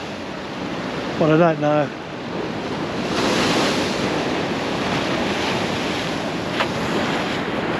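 Ocean waves crash and wash over the rocks at Ben Buckler by Bondi Beach in a steady loud roar with wind buffeting the microphone, and someone talks briefly early on.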